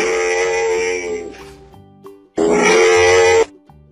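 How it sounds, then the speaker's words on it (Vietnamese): A camel gives two loud, drawn-out grunting bellows separated by a short pause, each about a second long, close and harsh, with soft background music between them. "Con lạc đà."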